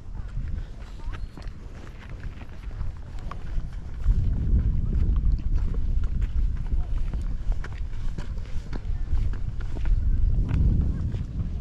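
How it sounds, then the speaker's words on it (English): Wind gusts buffet the microphone on an open-space ridge hike, a loud rumbling roar that swells and eases in waves, with scattered crunching footsteps underneath. "It's a little windy here."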